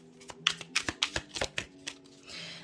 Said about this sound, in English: Let's get one more shuffle